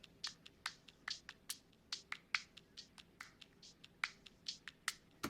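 A sampled clap percussion loop and a hi-hat loop play together in a simple drum pattern, with crisp, bright hits in a busy repeating rhythm, close and fairly quiet, with no voices.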